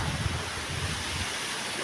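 Strong wind in Marinduque, Philippines roars and buffets against the microphone in a constant low rush, with no voices.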